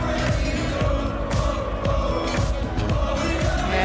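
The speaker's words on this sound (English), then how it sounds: "crowd definitely getting into this one" A darts crowd at the 2025 Premier League semi-final in Newcastle, cheering and singing along loudly and steadily to a player's walk-on music, a dense continuous roar with rhythmic beats underneath.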